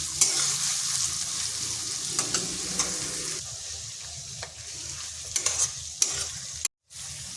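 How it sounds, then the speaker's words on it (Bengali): Onions sizzle in hot oil while a spatula stirs them in a pan, a steady crackle broken by scraping strokes. A brief dropout comes near the end, and there is no talking. "পেঁয়াজটাকে হালকা ভেজে নিচ্ছি।"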